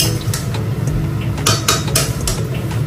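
Spoon scraping and clattering against a pan while food is stirred and sautéed with almost no oil, several sharp metallic knocks close up over a low cooking background.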